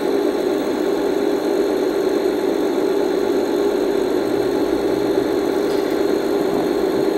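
A tractor engine runs steadily from inside the cab, a constant close rumble with a strong low hum that never lets up and no talk over it.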